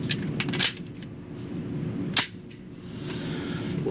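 A Walther pistol loaded with Inceptor ammunition fires two sharp cracks about a second and a half apart, heard from a distance against steady outdoor background noise.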